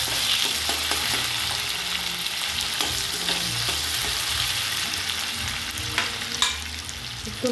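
Onion fries in a pan, giving a steady close-up sizzle throughout with scraping and clinking as it is stirred, and no voices.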